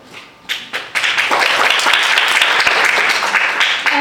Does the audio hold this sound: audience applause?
yes